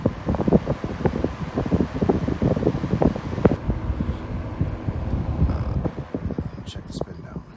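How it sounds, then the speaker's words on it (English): Vintage Westinghouse AF05 electric fan running on high, a close whooshing airflow with rattling mechanical pulses and buffeting, steady throughout with a few faint clicks toward the end. "Go back to high again."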